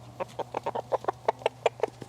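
Backyard hens cluck in quick, uneven bursts, about a dozen short calls close by, while the chickens peck at cherry tomatoes tossed to them, over a constant low hum.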